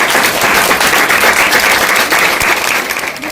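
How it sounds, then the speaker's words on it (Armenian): An audience at a kindergarten graduation ceremony claps loudly and continuously, a dense wash of many hands that thins slightly toward the end. "եկեք ծափահարենք"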